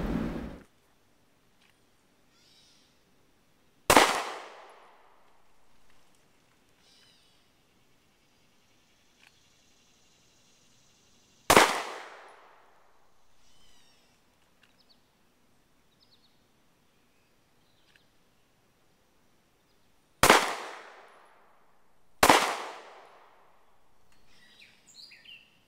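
Gunshots at an outdoor shooting range on a July range trip, five sharp loud reports spaced several seconds apart, each followed by a short decaying echo, with near silence between them.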